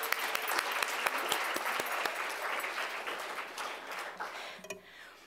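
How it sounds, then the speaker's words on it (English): A lecture-hall audience gives a round of applause for staff and team members, crisp individual claps at first merging into steady clapping that fades out near the end. "So let's give them a round of applause."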